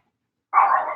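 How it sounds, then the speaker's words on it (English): A dog barks in the background during a conference Q&A livestream, a single sharp bark arriving after a moment of silence, clear and fairly loud. "As you can hear my dog barking in the background."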